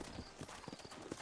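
Horse hooves clip-clop in the Red Dead Redemption video game, a quick, steady run of soft thuds close by, with faint background ambience and no clear talk.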